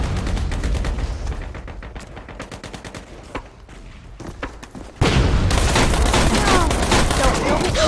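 Shotgun fire in the online shooter Metro Conflict comes as a run of sharp, rapid gunshot bursts, followed by a sustained loud roar of blasts and combat noise.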